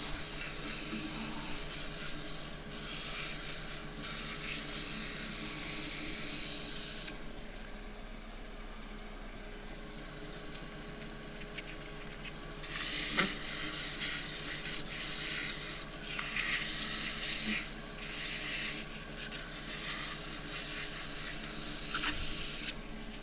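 A wax-loaded sock is rubbed over an endgrain wooden box turned from scrap wood, giving close, scratchy rubbing strokes in bursts with a long pause partway through.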